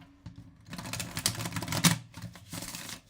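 A soft, floppy tarot deck is shuffled by hand, making a dense run of rapid papery riffling and flicking close by, in bursts with brief pauses.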